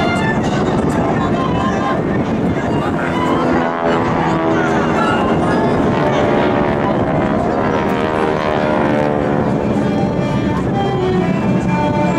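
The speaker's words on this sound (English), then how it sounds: "Watch as the Solo pops up to deliver his ordnance while the enemy aircraft maneuvers to shoot him down from behind." GEICO Skytypers aircraft maneuver at the 2012 Joint Services Open House air show, a loud droning propeller roar with slowly sweeping pitch that swells and fades, while an announcer talks over it.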